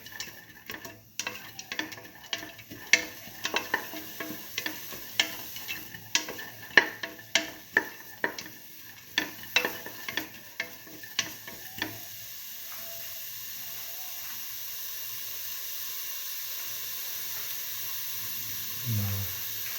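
Mung beans and rice being sauteed in a pan, with rapid rhythmic scraping and tapping of a spoon for about twelve seconds, then fading into a soft steady sizzle and hiss.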